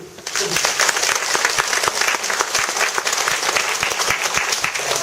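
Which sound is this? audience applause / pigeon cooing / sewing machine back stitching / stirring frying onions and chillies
audience applause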